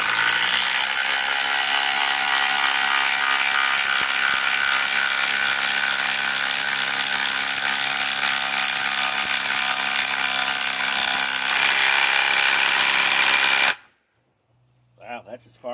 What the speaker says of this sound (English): HCB81B, this is a 2200 inch pound impact driver with a 4-amp 21700 cell